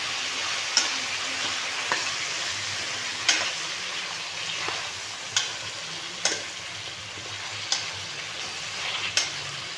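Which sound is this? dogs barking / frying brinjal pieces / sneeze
frying brinjal pieces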